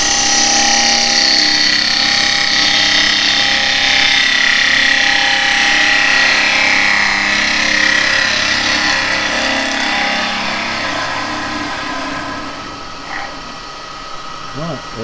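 A wood lathe turns a piece while a 1/4 inch gouge rides its bevel and peels off ribbon shavings, making a loud, steady whirring hiss up close that eases and fades toward the end.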